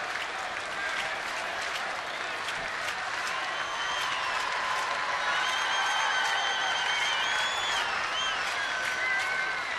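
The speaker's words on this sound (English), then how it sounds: "Oriole Bird trying to get the crowd into it" Baseball stadium crowd at an Orioles home game against Toronto applauding and cheering as the Oriole Bird mascot rouses fans, a steady dense wash of clapping and crowd noise throughout with some whistles and voices mixed in.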